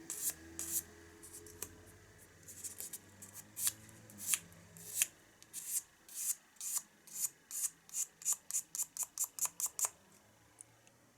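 Sandpaper rubbing over a carved wooden bird's beak, a run of short, quiet scratchy strokes that quicken into a steady rhythmic series, close and alone with no talk.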